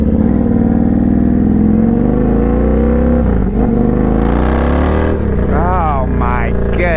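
An Indian FTR 1200 V-twin motorcycle fitted with a full Toce exhaust and tune rumbles loud and close with a deep, steady engine note that rises in pitch toward the end, while someone talks over it.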